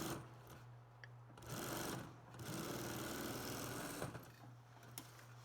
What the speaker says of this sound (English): These next few steps are all done on the Singer 112, and that's the double needle. And it starts by tacking down the left and right flies.